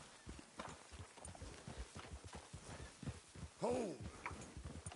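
Rhythmic clip-clop of horse hooves walking in the video game Red Dead Redemption 2, steady and close, with a brief shout and some background voices around the middle.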